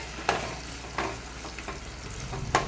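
Tomatoes with turmeric and salt sautéing over a low flame for fish curry, a soft continuous sizzle with a few spoon knocks and scrapes against the pan, no voices.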